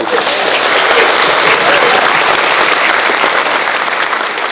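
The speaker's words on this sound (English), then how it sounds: "So again, clap to Giles as well" Loud, dense applause from an audience at a bodybuilding seminar with Ronnie Coleman, steady and continuous with no pause and a faint murmur of voices beneath.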